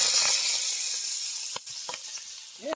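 Chicken pieces shallow-frying in a small amount of oil for Kundapura garlic chicken: a loud, continuous bright hiss of sizzling oil, broken by a few soft knocks and scrapes near the end.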